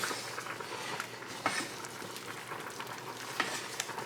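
Flour being whisked into melted butter and softened onions in a pan, a steady soft sizzle with scraping stirring strokes and a couple of sharper clinks, fairly quiet with no talk.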